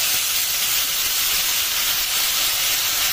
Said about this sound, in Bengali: এবার এই চিংড়ি মাছগুলোকে ভালোভাবে ভেজে নেব